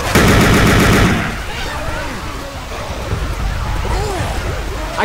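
Rapid automatic gunfire from Left 4 Dead 2, a loud fast burst of shots that stops after about a second, followed by chaotic game noise and shouting.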